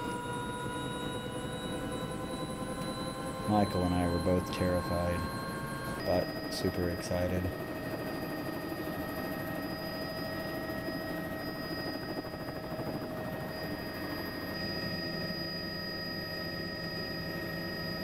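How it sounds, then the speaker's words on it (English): Helicopter flight to Eagle Glacier near Juneau, with a steady rotor and engine drone running throughout under a person talking, plus some brief louder bursts near the middle. "Fly on an actual helicopter."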